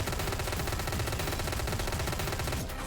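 Gunfire from the boss in the Hotline Miami video game: a loud, continuous burst of rapid shots with no pauses, running almost three seconds and easing off slightly at the end.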